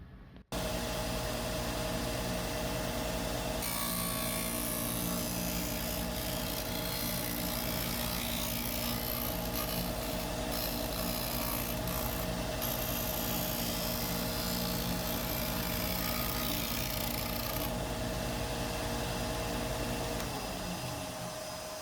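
A WEN benchtop disc sander grinds a wood piece with a loud, continuous motor whine and abrasive rasp that holds steady for about twenty seconds, then spins down at the end, with no talking.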